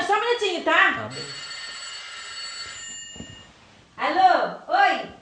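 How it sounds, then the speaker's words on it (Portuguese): A telephone rings with a bright, steady electronic trill lasting a couple of seconds between stretches of nearby talking, loud and close in a room. "Que é o telefone."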